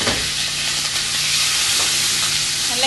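Onion and curry leaves fry in oil for fish sambal while being stirred, a loud, constant sizzling hiss with scraping stir noises close by and no voices.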